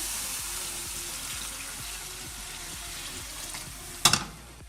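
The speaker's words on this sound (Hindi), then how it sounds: "अभी हम इसमें ऐड कर रहे हैं 1 लीटर पानी" One litre of water pours and splashes steadily into a pot for turnip curry, fairly close, ending with a brief louder splash and clatter.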